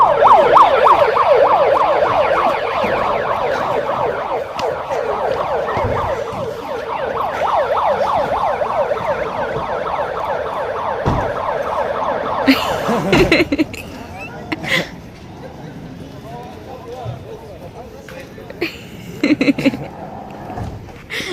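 A loud wailing ambulance siren cycles steadily for about twelve seconds during a rescue drill, then cuts off, leaving scattered thumps, clatter and background noise.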